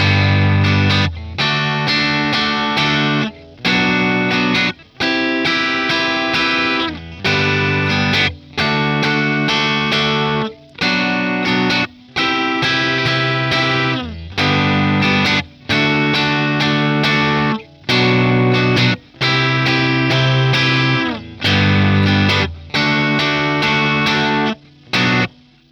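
An overdriven electric guitar plays the chorus chord progression of a song with steady rhythmic strumming, chords changing every bar or so, with brief gaps between phrases.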